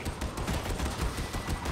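Dense, rapid gunfire crackles continuously in the video game Warhammer 40,000: Darktide, loud and busy, like an intense firefight with overlapping shots and no pauses.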